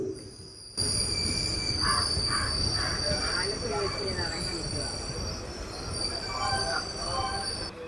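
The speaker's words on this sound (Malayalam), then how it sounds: "ആലപ്പുഴ റെയിൽവേ സ്റ്റേഷൻ്റെ ഒന്നാമത്തെ പ്ലാറ്റ്ഫോമിലേക്കാണ് നമ്മുടെ ട്രെയിൻ ഇപ്പോൾ ഇത് എത്തിക്കൊണ്ട് നിൽക്കുന്നത്." Passenger train pulls into platform one at Alappuzha railway station, wheels squealing with high steady tones over a rolling clatter, close and continuous, with voices in the background.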